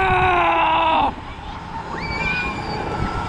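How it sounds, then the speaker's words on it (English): A little girl shrieking on an amusement ride at Panama City Beach, with one long, loud sustained scream that cuts off after a second, then fainter rising cries over ride noise. "The little girl is having fun. She's screaming."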